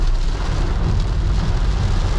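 Heavy rain pours steadily during a midnight drive in a thunderstorm, a loud, dense, continuous wash with a deep low rumble, and no distinct thunderclap stands out.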